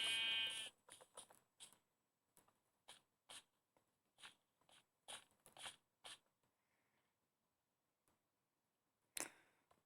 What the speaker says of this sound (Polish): owca, owca, owca, owca. Owca. No owca. Chodź owca.